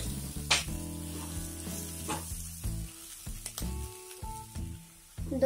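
Puffed rice upma (kurmure) gets stirred in a hot pan, soft scraping and gentle sizzling in uneven bursts, with quiet clinks and a fairly faint, intermittent texture.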